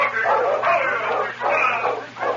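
A sled dog team coming into town barks and yips in several overlapping bursts, fairly close and loud, with a whimpering edge between barks.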